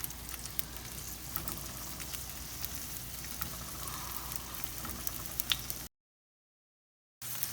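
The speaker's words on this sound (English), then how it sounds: "I'm going to cook these for 5 to 6 minutes until the cut side down in the oil turns a nice golden brown and crispy." Halved potatoes fry cut side down in oil in a pan, a steady soft crackling sizzle heard close up that cuts out briefly near the end.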